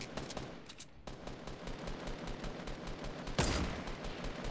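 Sustained spray gunfire in Fortnite at Tilted Towers: rapid, dense automatic shots in a loud continuous stream, with a louder burst toward the end.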